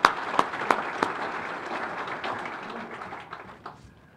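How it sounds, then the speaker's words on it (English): Applause for weather forecaster Greg Soulje at the 2015 Ag Expo opens with a few sharp individual claps, then settles into a moderate, somewhat distant round that gradually thins out. "Give him a round of applause"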